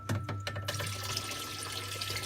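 Water from a pump in a Reefloat reef canister gushes and splashes steadily, with a low constant hum underneath and a few sharper splashes at the start.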